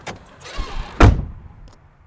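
A car door shuts with a single solid thunk, preceded by a low rustling rumble. The sound then fades to near quiet, with no clear engine pulling away.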